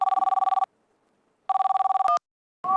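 Old-style telephone ringing with a trilling electronic bell in two bursts, a short squawk and the start of a third ring, loud and close with silence between rings.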